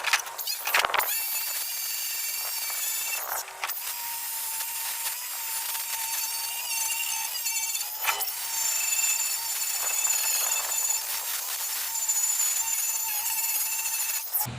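A rusty painted car part, an aftermarket cold air intake piece, being sanded with 80 grit paper by a power sander, a continuous loud whirring grind with brief dips, close by.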